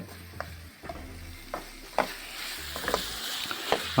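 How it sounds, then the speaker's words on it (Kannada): Tomato frying in oil alongside onion and green chilli, a soft, fairly quiet sizzle broken by several stirring scrapes and light clinks of a spoon against the pan. "ಇವಾಗ ಟೊಮೊಟೊ ಕೂಡ ಹಾಕಿ ಅದನ್ನು ಕೂಡ ಫ್ರೈ ಮಾಡ್ತಿದ್ದಾಳೆ"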